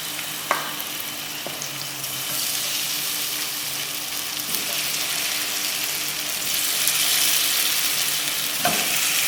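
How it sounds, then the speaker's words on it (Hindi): Chicken wings frying in hot oil, dropped in one by one, make a continuous bubbling sizzle that swells slightly toward the end, with a few sharp clinks along the way and no talking. "जैसे हमारा ऑयल गर्म होता है हम एक एक करके इसके अंदर डालते जाएंगे।"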